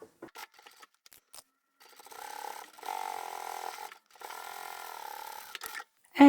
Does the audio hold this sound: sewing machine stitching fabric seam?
yes